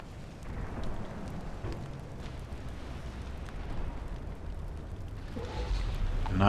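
A battleship is blown apart in the naval warfare game Ultimate Admiral: Dreadnoughts: a low, sustained rumbling boom that rolls on steadily and swells louder toward the end, with no voices.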